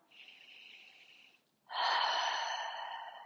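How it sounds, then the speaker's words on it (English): One deep breath, a soft, quiet inhale followed after a short pause by a louder, longer exhale through the mouth, close and without talk. "Take a breath in and out."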